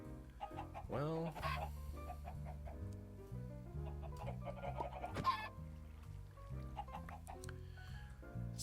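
Chickens in the Minecraft Sky Factory 3 video game cluck repeatedly over a steady game music backdrop, with clustered bursts of clucking near and fairly loud.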